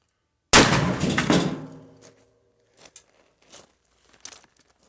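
A shotgun blast fired at a rough cut board, one loud close boom with a long crackling decay, followed by a few faint clicks and rattles of handling.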